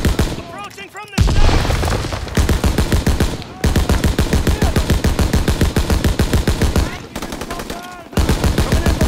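Rapid machine-gun bursts and rifle fire in Call of Duty WW2, loud sustained automatic volleys broken by brief pauses, with shouted commands and voices mixed into the battle.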